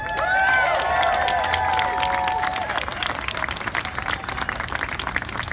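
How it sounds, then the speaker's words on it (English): Sustained crowd applause and clapping for the Las Vegas Pipe Band at a St Patrick's Day celebration at the New York New York Hotel Casino, loud and dense, with faint whistles and cheers over the clapping. "How about a nice round of applause for Las Vegas's very own Las Vegas Pipe Band."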